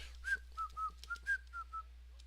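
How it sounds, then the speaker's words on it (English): Whistled tune from marching troops in a Civil War video game, a series of short high melodic phrases rising and falling over about two seconds, clear and fairly close against a quiet background. "You want to hear that the whistling, don't you?"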